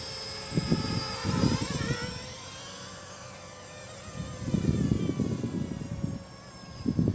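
A 3D 6X hexacopter with three-bladed propellers runs at about 40% throttle, giving a steady high motor whine throughout, with bursts of low rumbling buffeting now and then.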